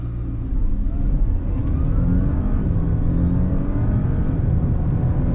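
A 2019 Audi A6 or A7 accelerates hard at full throttle from a standstill, its engine giving a loud, steady rising drone with road and wind noise inside the cabin.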